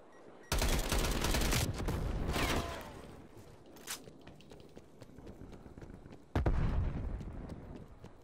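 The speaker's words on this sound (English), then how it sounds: "There are so many explosions" Bursts of video game gunfire and explosive blasts erupt twice, loud and sudden, with scattered shots and rumbling in the quieter stretch between them.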